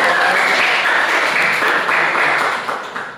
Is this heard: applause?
yes